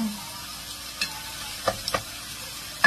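Pork lung for bopis frying in a pan, a steady soft sizzle broken by a few sharp clatters of a utensil against the pan, close and with no talk.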